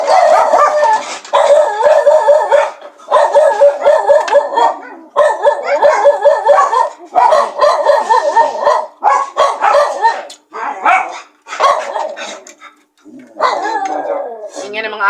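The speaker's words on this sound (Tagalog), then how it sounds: "Ingay ng mga aso namin." Several farm dogs bark and howl close by in loud, repeated bursts with short gaps, the howls rising and wavering over sharper barks and yips.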